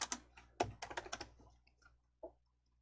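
A few close, crisp keystrokes tap on a computer keyboard while text is entered in a Hangul word processor for a DIAT certification exercise. Irregular clicks fall in a quick cluster, then a lone tap follows after a pause.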